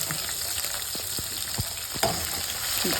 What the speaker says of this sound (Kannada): ಆ ಮೆಣಸಿಕಾಯಿ ಕೂಡ ಚೆನ್ನಾಗಿ ಫ್ರೈ ಆಗಬೇಕು